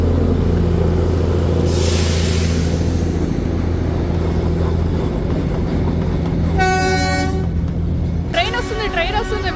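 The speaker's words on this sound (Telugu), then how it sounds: "ట్రైన్ వస్తుంది వీడియో తీసుకో" A train rumbles past on the Darjeeling line near Ghoom, a steady heavy roll that carries two loud horn blasts near the end, with voices faintly underneath.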